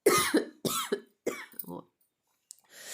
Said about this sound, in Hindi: मुझे देखिए खांसी बहुत आने लगी